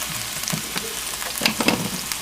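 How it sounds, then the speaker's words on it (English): Food sizzles and crackles in hot oil in a skillet, a steady frying hiss with small pops, close and moderately loud with no talking. "And that little sizzle is what you want."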